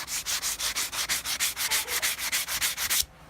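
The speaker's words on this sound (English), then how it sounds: "I use 100 grit, 80 grit, 150, 220 grit to refine the shapes" Sandpaper rubbing back and forth over a carved wooden spoon, moving through grits from 80 to 220, in about fifteen steady, even strokes that are close and fairly loud and then stop abruptly.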